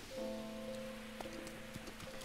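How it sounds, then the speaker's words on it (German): Rain falling in the video game The Legend of Zelda: Breath of the Wild, a steady soft patter running throughout with game music tones layered over it. "Natürlich, es regnet"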